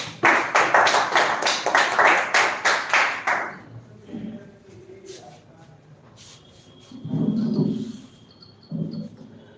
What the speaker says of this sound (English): So please clap for Javed.